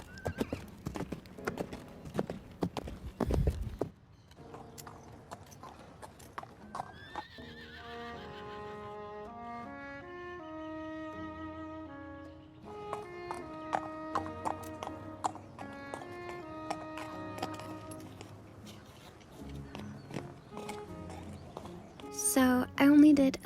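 Horse hooves clip-clopping in the video game Star Stable, with occasional whinnies, game music and a voice talking over a steady walking rhythm.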